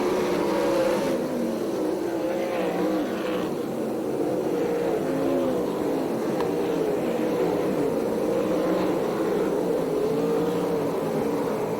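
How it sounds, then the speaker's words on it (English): Sprint cars on the ASCS Canyon Region dirt oval at Perris, California, drone continuously in a dense, wavering engine roar that swells and fades as cars circle the track, loud and steady with no voices. "Car running slow on the bottom of the racetrack, coming off turn number 4 right now."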